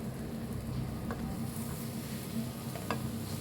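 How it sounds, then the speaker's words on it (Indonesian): Banana pieces brushed with margarine grill in a hot pan, giving a steady, even sizzle close by with a couple of faint clicks, and no voices. "Kemudian panggang pisangnya hingga matang dan kecoklatan warnanya."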